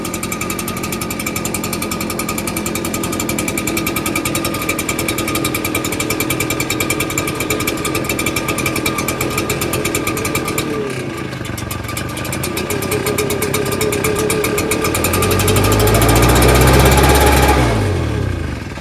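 A two-stroke engine runs steadily with a fast, buzzing, rattly idle, close and loud throughout, then revs up briefly near the end.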